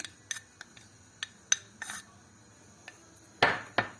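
Sour cherries are dropped into a pot on the stove for a panna cotta sauce, giving a series of sharp, close clicks and clatters against the pot, sparse at first and then a louder cluster near the end.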